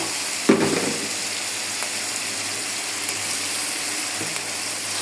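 Garlic paste hits hot oil for a chicken curry with a sudden burst of sizzling, settling into a steady, close frying hiss that continues throughout with faint clicks.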